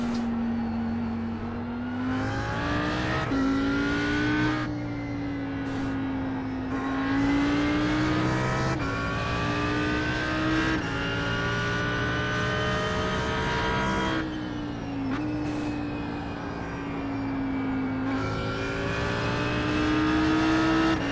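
An Audi R8 GT3 race car engine at Spa in the iRacing sim, a steady loud drone climbing in pitch through the gears with clear upshift drops, continuous throughout.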